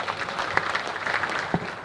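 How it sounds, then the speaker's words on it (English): Audience at an investment conference in Nyanza breaks into steady applause, a dense spread of clapping with a few sharper claps standing out, no speech over it. "Could we again give them a round of applause?"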